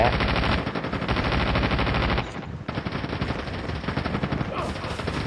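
Rapid automatic gunfire from the mobile shooter game Call of Duty Mobile, dense sustained bursts that briefly pause and resume, loud and continuous throughout with no talking.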